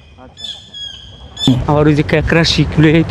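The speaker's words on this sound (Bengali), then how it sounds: "ওয়াও! পাখির কত সুন্দর ডাক।" Birds at a seaside duck farm with about three hundred ducks call out in bright, honking cries, loud and close, mixed with people talking over them.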